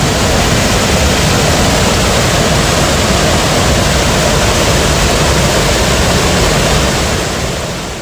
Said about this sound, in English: This is basically a river at this point. It's not a stream anymore. And it is rushing.